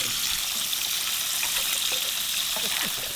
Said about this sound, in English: With one egg fried, I let the others fry their own eggs